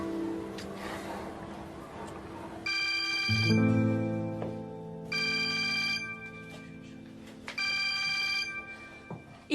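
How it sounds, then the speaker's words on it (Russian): A telephone rings in a home setting, its electronic ringtone sounding in three long bursts with pauses between, clear and fairly near, over a low background hum and some muffled movement. "телефон"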